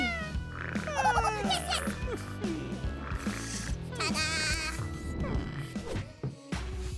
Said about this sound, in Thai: ดูสิเจ้าแมวทั้งหลายชอบกันใหญ่เลย